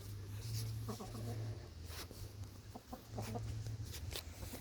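Chickens cluck and squabble nearby in short bursts, with a faint steady hum underneath and a voice in the background.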